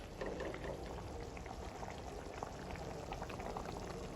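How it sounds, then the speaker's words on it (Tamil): Fish pieces go into a pan of bubbling fish curry, the close, steady boiling and sizzling filling the whole stretch at low volume with no talk. "இப்போ நான் மீன் போடுறேன் பாருங்கள்"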